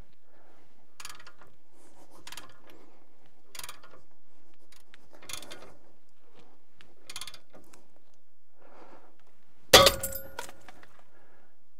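A cast iron soil pipe gives one sharp, loud crack as a ratchet-driven snap cutter is tightened around it, preceded by several soft, evenly spaced ratchet clicks and faint handling noise.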